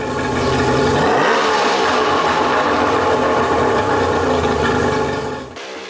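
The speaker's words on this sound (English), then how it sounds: "Do not hold the throttle open without a load on the motor," A Raider Model 50 motor runs loud and steady, its pitch swinging up as the throttle is opened, then holding at a high rev before cutting off abruptly near the end.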